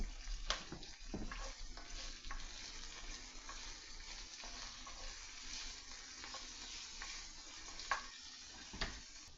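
Onions and peppers frying in a pan for chicken fajitas, a soft continuous sizzle broken by scattered scraping stirs, close but fairly quiet, with no voices.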